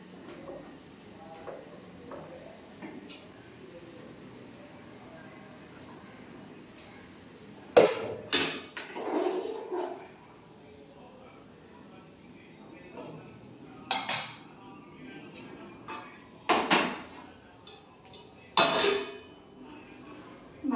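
Pots, dishes and cutlery clatter and clink in a home kitchen as rice is set on to cook, a few sharp bursts around the middle and more toward the end over a quiet background.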